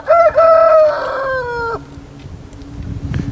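A rooster gives one long crow in a snowy backyard coop setting, close and loud, followed by faint low clucking and rustling from the flock.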